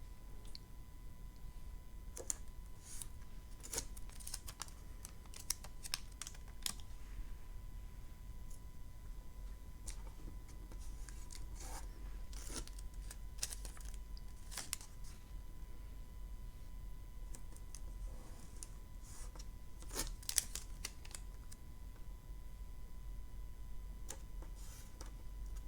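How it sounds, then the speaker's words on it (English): Washi tape being laid and pressed down around the edges of a square of watercolor paper, giving faint, scattered clicks and soft crackles in a quiet room, with no talking. "then I go ahead and add my washi tape so that I have clear, crisp lines around the edge of the Polaroid"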